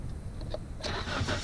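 A Nissan Sentra B15 car engine cold-starts: a short cranking whir, then the engine catches and settles into a loud, steady idle close by.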